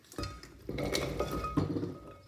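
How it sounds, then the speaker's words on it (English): Drained potatoes being tipped into a lidded dish clatter and clink against the cookware, with a few scrapes and knocks at close range in a home kitchen. "So what I'm going to do now is I'm going to put them into a dish with a lid."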